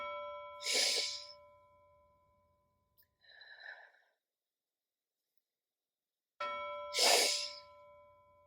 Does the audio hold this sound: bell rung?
yes